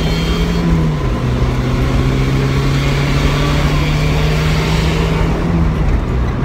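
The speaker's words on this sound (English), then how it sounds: "let me get past this truck real quick." Steady engine drone from a Mazda Miata accelerating on the road to pass a truck, a continuous low tone rising slightly in pitch and then holding, loud and close with broadband road and wind noise throughout.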